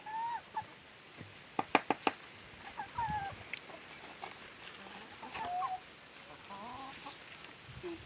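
Chickens in a backyard aviary giving soft, scattered clucks and brief sharp squawks, faint and close, with quiet pauses between calls.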